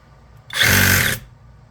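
A Hercules compact Sawzall reciprocating saw runs briefly with no load, a loud, close, buzzing whine that starts sharply, holds steady for about half a second and cuts off.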